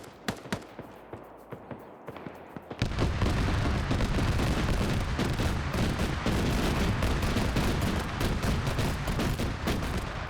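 Heavy gunfire from a BTR armored vehicle in a multiplayer shooter game: a few scattered shots, then dense rapid bursts and loud booming fire sustained for several seconds.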